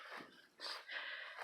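A farm dog on a coffee farm gives a few short, close bursts of sound over about a second and a half, with no talking.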